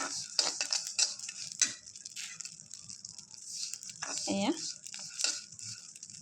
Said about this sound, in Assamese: তিলখিনি ভাজি লৈছোঁ